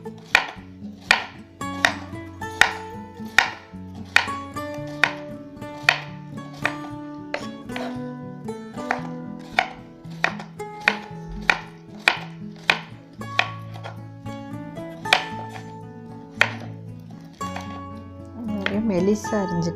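A knife slices bitter gourd thinly on a board in quick, regular chops, each a crisp tap, close and clear over a bed of background music.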